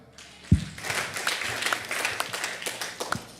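Scattered applause from a church congregation during a Thursday sermon, a sharp thump near the start, then uneven, moderately loud clapping with individual claps standing out, fairly close.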